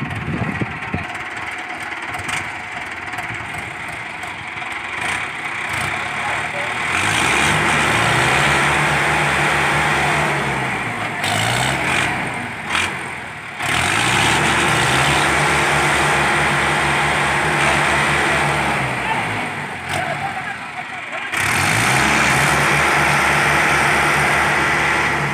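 Mahindra Arjun 555 DI tractor stuck in mud, its diesel engine idling then revving hard in long loud surges that drop back between attempts, close by and continuous.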